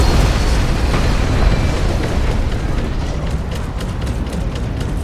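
A drop ship explodes in the Guardians of the Galaxy game, heard as a sustained loud roaring blast with a dense rumbling low end that slowly fades.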